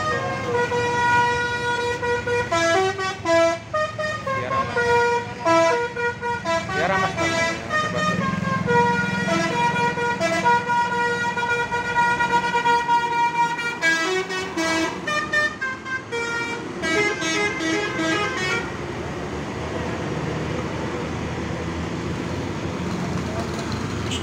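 A Harapan Jaya AC intercity bus on the Surabaya–Trenggalek route arrives at the busy Purabaya bus terminal, its loud multi-tone horn sounding in repeated melodic blasts over a steady engine rumble and terminal noise.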